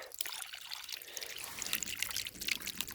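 Water pours and trickles steadily with a bright splashing hiss, continuous and fairly close, rendered as audio in a farming video game.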